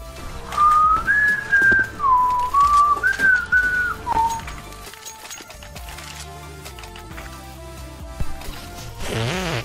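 Someone whistles a short rising and falling melody nearby during a competitive Counter-Strike match, a clear tune lasting a few seconds, then game noise with clicks and rustles.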